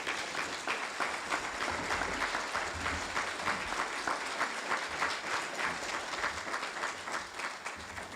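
Sustained audience applause at a fire department awards ceremony, steady and dense crowd clapping filling the room for the full stretch without a break.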